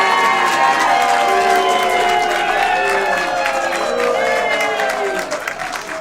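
Council meeting audience breaks into sustained clapping and cheering, a dense crowd roar that fades slightly near the end.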